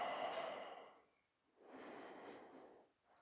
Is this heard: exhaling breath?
yes